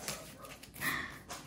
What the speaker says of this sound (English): Excuse my dog if you can hear him.